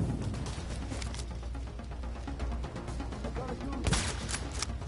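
Gunfire in the video game Tom Clancy's The Division, a dense continuous battle din with rapid shots, a louder burst near the end, heard without talk.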